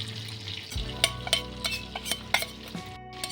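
Cumin seeds, Kashmiri chili and kasuri methi frying as a tadka for dal makhani, a faint sizzle with several sharp spoon clinks against the pan.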